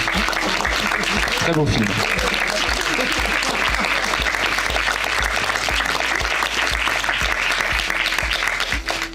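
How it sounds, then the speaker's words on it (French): Steady audience applause at a film awards event honoring filmmaker Axel Boutet, with a thumping beat of music underneath and a voice speaking briefly over the clapping. "je tenais à ce qu'on l'applaudisse"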